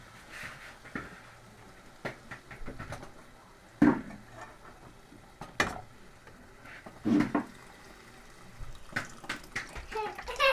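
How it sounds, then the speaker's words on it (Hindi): Water is poured into a simmering egg curry masala in a pan. It sounds as soft splashing and trickling mixed with faint stirring clinks, with a few louder spills scattered across the stretch. "अब इसमें थोड़ा पानी डालेंगे।"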